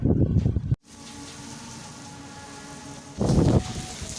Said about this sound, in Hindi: अभी बारिश शुरू हो चुकी है और शदीद बारिश हो रही है